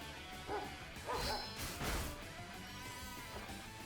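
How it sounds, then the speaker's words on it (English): A Pokémon's dog cry in Pokémon Violet, a few short bark-like calls mixed with whooshing and impact effects from battle, fairly faint with no talking. "it just has the regular dog sound"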